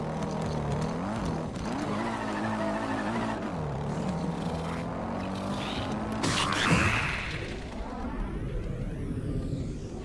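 A Hylian motorbike in Zelda: Breath of the Wild straining as it climbs, a steady engine drone with rising and falling pitch and a brief scraping, skidding burst near the end.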